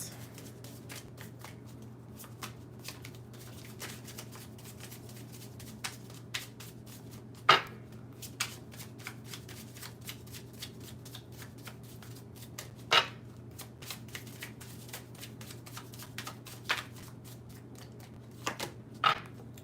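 A tarot card deck is shuffled in repeated soft riffles and flutters, with a few sharper snaps and taps of the cards standing out over a steady low hum, close and fairly quiet.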